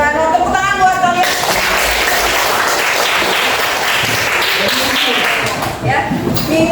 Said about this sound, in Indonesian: Oke, selamat tepuk tangan buat kalian.